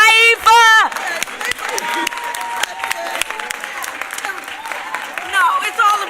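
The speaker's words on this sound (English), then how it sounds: "Let's give a big hand of applause to Nkechi Taifa." Audience applause at a justice-themed event honoring an advocate, lively clapping and crowd noise that begins after a brief voice and continues for several seconds, with cheering and voices mixed in.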